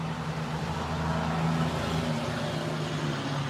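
A loud street car driving past on a Denver street, a dense, continuous engine roar with a sustained low hum, close and steady, with no voices.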